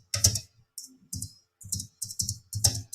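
Fingers type on a computer keyboard in short clustered bursts of close, crisp key clicks separated by brief silent gaps, with no voices.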